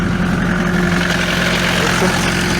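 A homemade tractor pulling a 2x30 plough through heavy sandy garden soil runs with a loud, steady, close engine drone and a deep rumble that continues throughout.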